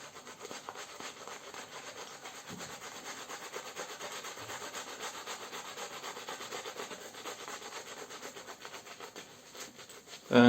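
A RazorRocks silver tip synthetic shaving brush, lightly loaded from an Arco shave stick, works up lather with a steady, close, continuous rubbing swish that keeps an even pace throughout, with no voices.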